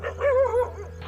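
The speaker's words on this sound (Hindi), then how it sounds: "दूर कहीं कुत्ते भौंक रहे थे।" A few dogs bark and yelp at a distance on a quiet night, the short barks drifting and tonal over a low steady background hum.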